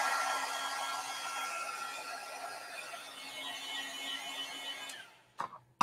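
A heat tool blows hot air over a colored image, giving a steady close whirring hiss that runs for about five seconds and then cuts off, followed by a couple of light clicks.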